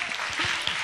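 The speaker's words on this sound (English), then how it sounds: "clap it up, clap it up." An audience claps at a premiere of Gum Saan to Golden Spike during a question-and-answer session. The brief burst of dense, steady clapping fills the room.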